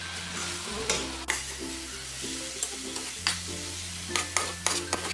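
A spoon stirs paneer egg roast in an uncovered pan, scraping and clinking in a loose irregular rhythm over a steady background sizzle and hum, close and alone without talk.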